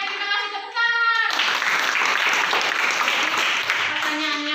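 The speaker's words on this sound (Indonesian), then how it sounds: "Terima kasih, tepuk tangan." Classroom applause breaks out after a student group's presentation in an Indonesian school lesson, a sudden burst of many hands clapping that stays steady and fairly loud, with a voice talking briefly before it starts.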